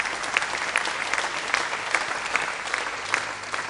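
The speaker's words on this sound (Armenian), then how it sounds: "Իսկ այժմ եկեք ծափարենք մեր երաժիշտներին" Steady crowd applause for the musicians at a concert, many hands clapping in a thick continuous roar, with a few louder individual claps standing out near the front.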